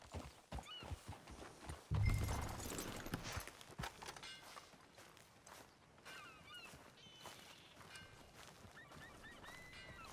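Horse hooves clip-clop at a steady trot in the Red Dead Redemption video game, moderately loud and close, with a brief whinny and a burst of louder movement early on, over ambient game background.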